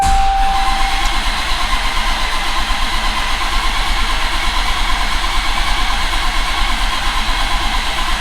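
Modified 1500hp Dodge Challenger SRT Hellcat engine cranking over steadily without firing, a loud continuous churning drone that holds level with no catch or break.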